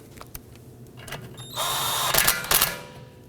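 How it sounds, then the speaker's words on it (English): A short, loud whirring burst from an impact gun tightening a bolt on a Toyota Camry rear brake line, then two more rapid rattling bursts, set against quiet background noise. "use our impact gun and zip that down to secure it"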